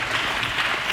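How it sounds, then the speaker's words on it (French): A church congregation at a sermon applauds loudly, a dense, steady burst of clapping that fills the whole moment with no voices over it. "Acclamons très fort."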